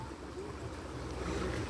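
A strong river current rushes in a steady, broad wash of moving water, fairly faint and continuous, heard outdoors at a riverside resort.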